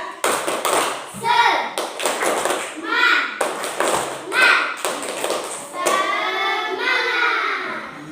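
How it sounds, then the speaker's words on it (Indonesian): A classroom of children does a rhythmic spirit clap, sharp hand claps striking in patterned bursts while the group chants loudly along with them. "kita tepuk semangat dulu, tepuk semangat"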